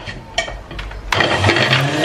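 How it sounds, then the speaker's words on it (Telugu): A mixer grinder blends cucumber and beetroot into juice. A few faint knocks come first, then the motor kicks in about halfway through with a loud, steady whirring roar that continues to the end, close by. "ఇక్కడ నేను మిక్సీ పట్టేస్తున్నాను"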